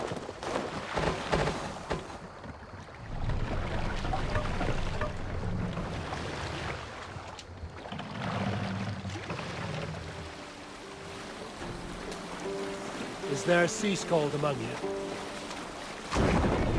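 A Viking longship sails over waves in Assassin's Creed Valhalla, with a rushing wash of water and wind under a game score and bursts of character dialogue.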